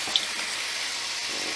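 Steady tap water runs into a kitchen bowl as soaked almonds are rinsed for homemade almond milk, a continuous close hiss with no breaks.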